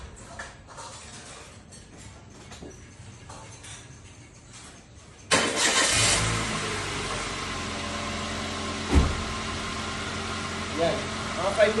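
A Toyota Avanza engine, run with flushing oil added during an oil change, cranks and catches abruptly partway through, then settles into a steady, close idle hum with a brief louder surge later. Quieter ambient noise comes before the start.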